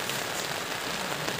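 Rain falling on a mountain trail on Arjuno, a dense, constant hiss of drops hitting surfaces, close and fairly loud with no voices.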